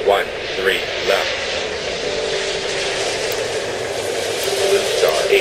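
Steady roar of jet aircraft engines from the airport video game Airport Madness World Edition, set at New York, with a broad continuous rumble and faint swells as planes move, under game radio voices.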